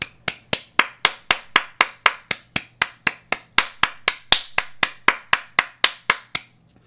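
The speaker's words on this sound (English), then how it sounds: "I don't know why I'm clapping." Steady rhythmic hand clapping, about two dozen sharp claps at a quick even pace, close and loud, with no talking.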